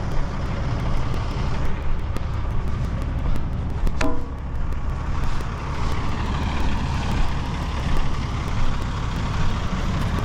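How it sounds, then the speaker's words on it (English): A vehicle with a 454 engine and 4-barrel carburetor runs steadily, giving a loud, continuous low rumble with a brief clatter partway through. "It's got a 454 in it and 4-barrel carburetor."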